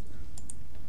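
A few sharp computer keyboard key clicks, close and quick, two or three brief taps over a low background hum.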